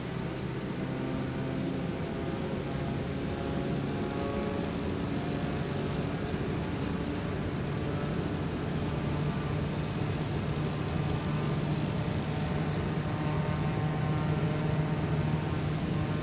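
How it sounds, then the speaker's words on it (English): Jet engines of a Malaysian Firefly airliner roll for takeoff in Microsoft Flight Simulator: a steady, unbroken roar with a low engine hum, loud and constant throughout, with no voices. "Just handing over control to Otto and getting ready for takeoff."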